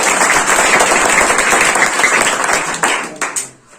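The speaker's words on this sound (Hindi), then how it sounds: "इनके लिए जोरदार ताली बजा दीजिए।" Loud, close clapping from a seminar audience cheering a tenth-grade topper at a coaching class, a dense burst of many hands that holds steady for about three seconds, then breaks off into a few scattered claps and fades out.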